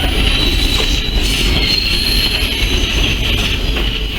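A diesel or steam tourist train on the Heber Valley Railroad rolls along the rails, loud and close, with a continuous rumble, metallic wheel squeal and faint clickety-clack.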